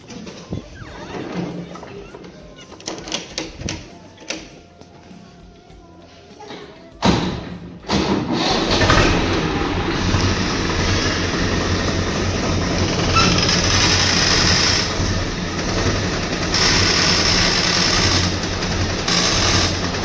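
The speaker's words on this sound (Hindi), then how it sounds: "हमने रोटर जोड़ दिया, अब ट्रैक्टर लेके चलते हैं खेत पर" A farm tractor pulling an attached rotavator (rotary tiller) drives toward a field for wheat sowing. It starts with scattered knocks and clatter, then after a sharp thump a loud, steady engine rumble sets in, mixed with rattling implement noise, close by.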